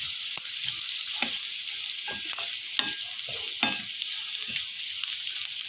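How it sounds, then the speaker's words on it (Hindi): Half a spoon of cumin seeds and green chillies fry in hot oil for masoor dal, a steady close sizzle broken by sharp pops and spatters, with no voices. "अब हम इसमें डालते हैं जीरा,"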